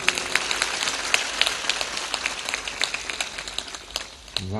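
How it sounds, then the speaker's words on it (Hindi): Audience clapping for the hosts at a spiritual satsang gathering, a dense steady patter of many hands lasting several seconds before tapering off near the end. "धतुरिया वालों के लिए जोर से ताली बजा देना"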